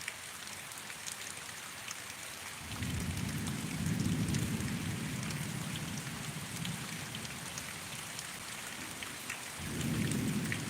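A severe thunderstorm over Pittsburg, Kansas: steady heavy rain hisses throughout while two deep rolls of thunder rumble in, one long and loud near the start and another near the end.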